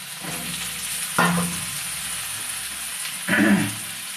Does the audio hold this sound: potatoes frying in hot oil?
yes